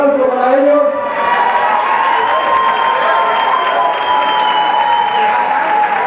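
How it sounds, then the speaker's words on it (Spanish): Audience applauding and cheering for world salsa champions' professional dance company, a loud steady wash of clapping with shouts and whistles from a large crowd throughout. "Un aplauso para ellos."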